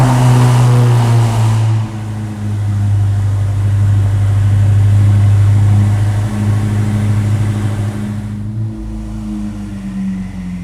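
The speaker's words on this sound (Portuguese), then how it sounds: "Depois nós temos o escapamento, que melhoraram o ronco e a vazão do motor" A Ferrari SF90 Hybrid with an upgraded exhaust drones with a deep, steady engine tone that swells slightly and settles, close and loud throughout with no talking.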